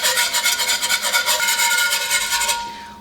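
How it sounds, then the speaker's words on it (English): A whisk beats chicken broth into a roux and scrapes the bottom of the pan, making a quick, rhythmic rasping scrape repeated many times at close range, then ending abruptly near the close. "When you're adding it in and whisking it, scrape the bottom of the pan to get all the delicious brown bits into your gravy."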